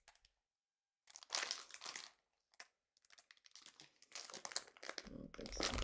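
Plastic candy packaging for Joyride berry ropes torn and crinkled open by hand, with sharp rustling bursts and brief pauses, close and fairly loud.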